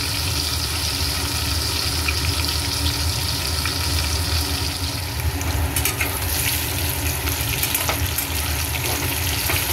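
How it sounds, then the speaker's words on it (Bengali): Pui shak greens and catla fish browning in a pan for a Bengali chhyachra, a steady close sizzle with faint watery crackle running evenly throughout, no voices. "লাল লাল করে ভেজে নিই।"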